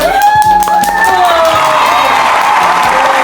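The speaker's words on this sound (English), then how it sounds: "Give applause." Applause and cheering rise in a home kitchen after a Thai mango sticky rice tasting, steady and fairly loud, mixed with children's voices and a bright electronic tone running underneath.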